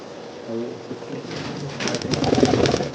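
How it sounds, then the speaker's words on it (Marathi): A pigeon gives a soft rolling coo close by, followed by a growing rustle of fluttering and shuffling as more birds stir nearby. "त्या फॅन्सी कबूतर आहे"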